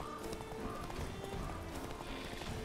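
Horse galloping with a rider in the video game The Witcher 3, a quiet, steady clip-clop of rhythmic hoofbeats through a forest, continuing without pause over soft game ambience.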